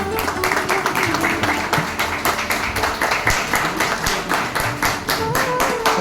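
An audience at a retirement farewell claps continuously, dense steady applause with many overlapping hands, close and loud throughout.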